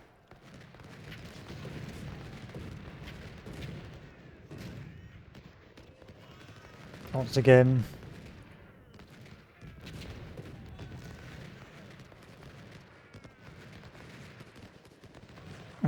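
Musket volleys and cannon fire crackle in the distance during a Civil War battle in the game Ultimate General: Civil War, faint and scattered with one louder burst midway, while someone briefly speaks.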